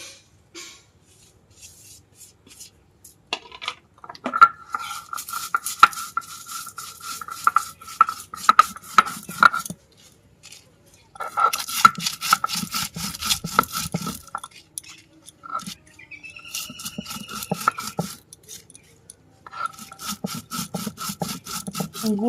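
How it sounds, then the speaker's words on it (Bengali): Roasted whole spices for a soyabean chop are ground by hand on a stone grinding slab. Close, repeated gritty rubbing strokes come in several long bursts with brief pauses, and no one speaks. "এবারে আমি এটাকে শিলে গুঁড়িয়ে নেব।"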